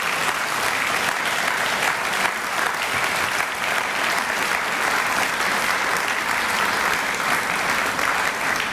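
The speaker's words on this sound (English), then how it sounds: "Now please join me in offering a round of applause for all of our nominees and award" A large audience at a literacy awards ceremony claps steadily and loudly for the full length, a dense, even wash of applause with no pauses.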